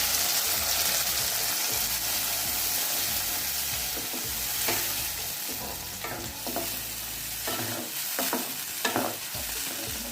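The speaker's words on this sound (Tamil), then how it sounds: "இது கொஞ்சம் நேரம் நல்லா ஃப்ரை ஆகிட்டோம்" Tomato puree for a homemade pizza sauce fries and sizzles in a pan, close up, with repeated scraping stirs of a spoon in an uneven rhythm over the steady hiss, no voices.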